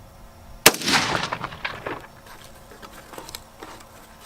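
A single sharp gunshot cracks out nearby in open desert, followed by a rolling echo that fades over a few seconds.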